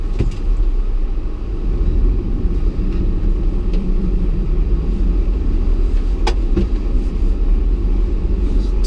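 A Hijet mini truck fitted with a snow plow, high-low range and a 5-speed transmission, drives along in snowy weather, giving a steady, loud engine and road rumble that continues without a break and with no talking.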